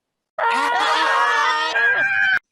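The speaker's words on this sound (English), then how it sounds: "The badger beetle roars and they run away, screaming." Loud, sustained screaming from several voices at once as cartoon characters flee a roaring badger beetle monster, a dense shrill chorus lasting about two seconds before it cuts off abruptly.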